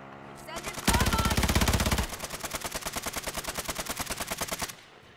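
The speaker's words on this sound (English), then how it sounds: "What the fuck is shooting at now?" Rapid automatic gunfire in Call of Duty, a fast steady stream of shots lasting several seconds, heavier and louder at first, then a lighter regular rattle before stopping.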